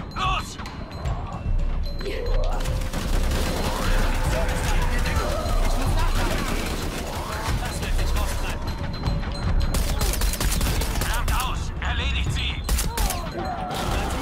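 Gunfire and blasts from Shadow of the Tomb Raider combat: repeated shots, crashes and booming impacts in a dense, continuous stream, with a voice talking over the action.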